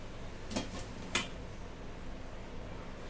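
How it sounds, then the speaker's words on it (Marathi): A metal kadhai is set down on a stove, giving two short clanks about half a second apart over a quiet kitchen background. "इकडे कढई ठेवली मी"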